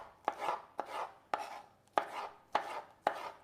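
Knife chopping capsicum into small dice on a board, six sharp distinct chops in a steady rhythm, close and clear with no talking.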